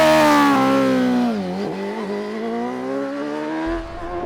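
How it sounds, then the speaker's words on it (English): A high-revving Suzuki GSX-R1000R superbike engine howls loudly with induction bark, pitch sliding down as it eases off, then holding a steady rasping drone close by. "It's that unmistakable GSX-R noise."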